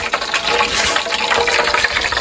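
Water runs steadily from a kitchen tap as hands are washed beneath it, a continuous close hiss and splash with no talk over it.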